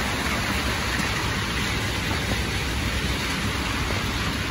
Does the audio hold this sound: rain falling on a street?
yes